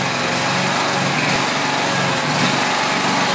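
A small engine runs at a steady, loud, high-revving drone close by, holding an even throttle with no clear rise or break and no talking.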